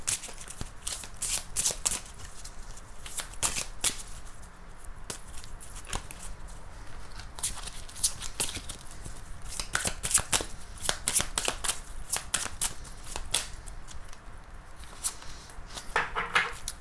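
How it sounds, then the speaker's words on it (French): Tarot cards are shuffled by hand in a steady run of crisp riffles and soft slaps that continue for the whole stretch, close by and without talk. "je vais mélanger les cartes"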